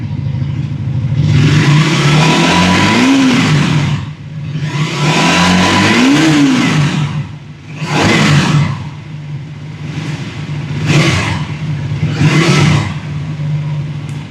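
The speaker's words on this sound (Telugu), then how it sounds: "ఇప్పుడు ఒకసారి మనం ఎగ్జాస్ట్ నోట్ విందాము." Triumph Tracker 400 motorcycle engine revved hard several times, loud exhaust note swelling and falling in two long pulls then three quicker blips over a steady idle thump, close by with no talk.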